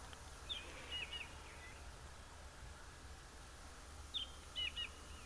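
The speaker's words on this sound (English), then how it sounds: "But always nice to hear the birds" Birds at sunrise on a safari give two short bursts of high chirping, first near the start and again near the end, faint and distant over quiet open-air hiss.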